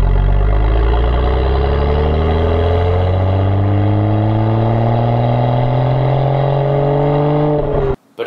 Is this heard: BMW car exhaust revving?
yes